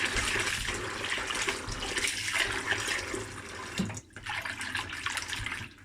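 Beans being washed for African bean cake, with steady running and sloshing water filling the scene, close and continuous, briefly dipping before resuming.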